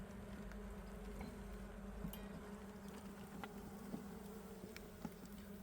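A steady, dense drone of many honey bees buzzing together inside a hive, continuous and fairly soft, with occasional brief louder bee passes close by.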